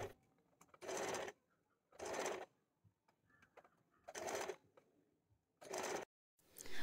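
A sewing machine stitches lace around a puff sleeve in short, fast whirring bursts of about a second each, separated by quiet pauses, close and clear.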